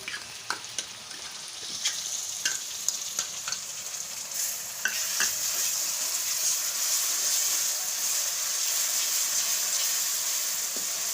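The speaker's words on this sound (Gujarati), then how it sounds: "હવે ડુંગળી ને આદુ ને લસણ ને બધું આપણે ઘડીક વાર તેલમાં સડવા દેશું." Grated onion with ginger and garlic frying in hot oil for a sweet corn gravy curry, early scattered spatula scrapes giving way to a continuous, even sizzle that swells slightly and holds steady, close and without speech.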